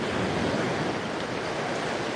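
Waves washing steadily onto a sandy beach, a continuous broadband surf roar with a wind-like hiss and no distinct breaks across the stretch.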